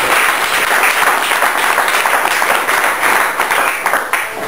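Church congregation applauding together during a pastor's sermon, a dense, steady wave of clapping from many hands, close and loud throughout.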